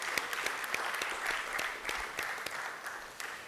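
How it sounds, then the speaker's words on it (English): A church conference audience applauds in a panel hall, a steady faint patter of many hands with sharper individual claps standing out, no talking over it. "That deserves a round of applause"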